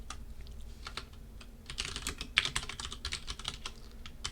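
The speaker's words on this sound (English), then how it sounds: "So now I should be able to type two things." Computer keyboard typing during a Python programming lecture: a quiet, steady run of soft key clicks with a brief louder burst midway, with no talking.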